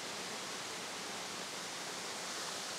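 Benton Falls pours in a steady, dense roar of rushing water, an unbroken wash of sound that stays loud and constant with no other noises.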